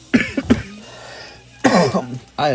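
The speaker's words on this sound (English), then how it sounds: "Forgive me, I'm still coughing a little bit after that illness." A few sharp coughs up close from someone still recovering from an illness, a quick pair at first, then a longer, harsher burst after a pause.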